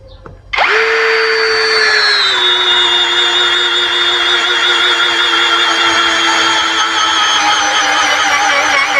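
A power drill in drilling mode at speed 1, with a 19 mm bit, whirs up to speed and runs steadily at a high, loud pitch for several seconds with no talking.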